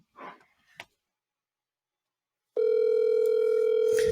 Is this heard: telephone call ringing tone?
yes